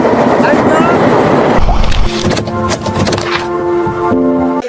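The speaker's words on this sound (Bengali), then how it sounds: "এই যে দেখতে পাচ্ছেন ট্রেন চলে এসেছে" A train pulls into a station at Tongi, Dhaka, during the World Ijtema gathering, with loud crowd noise and voices giving way to rumbling wheels and sustained tonal squeals of braking cars.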